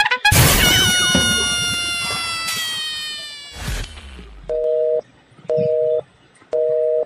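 An unanswered phone call gives three evenly spaced electronic tones near the end, each about half a second long. Before them come a loud crash, clatter and ringing metallic decay.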